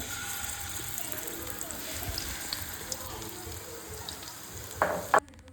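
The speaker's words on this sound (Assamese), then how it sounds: "আকৌ মই একেটা তেলতে এতিয়া পকৰীখিনিও বনাম ভাবিছোঁ" Pakoras fry in hot oil in an Assamese home kitchen, giving a steady, close hiss and crackle of sizzling throughout, with a couple of sharp utensil clinks near the end.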